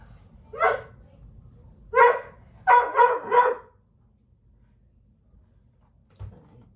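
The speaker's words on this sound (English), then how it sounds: "Be quiet, dog." An indoor dog barks during a home sewing session: a single bark, another, then a quick run of three close, loud barks, followed by quiet and a faint knock.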